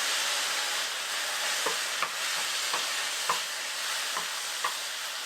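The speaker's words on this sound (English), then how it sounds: "And we're just going to keep on sauteing for another 2 to 3 minutes." Burdock root and carrot strips sautéing in a pan with mirin and soy sauce: a steady bright sizzle throughout, broken by a handful of soft scraping stirs at irregular intervals, with no talking.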